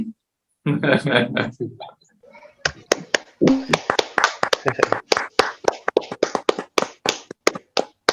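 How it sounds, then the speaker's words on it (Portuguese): Clapping for a preacher after a sermon in a Portuguese-language Protestant church setting: after a few seconds of speech, a run of sharp, close, irregular claps, like a small group or single person clapping near the microphone. "Acho que cabe uma salva de palmas aqui,"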